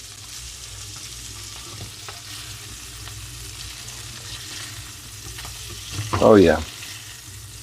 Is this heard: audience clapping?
no